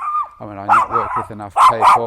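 A dog barks loudly and excitedly close by indoors, several sharp barks in quick bursts that overlap and alternate with someone talking.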